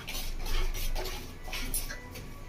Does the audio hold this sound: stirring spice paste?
yes